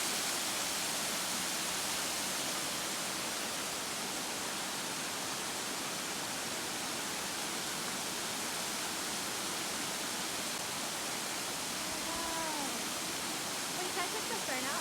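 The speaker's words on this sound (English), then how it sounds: "And these beautiful waterfalls." A waterfall in the Blue Mountains roars as a steady, dense wash of falling water, close and constant throughout with no break.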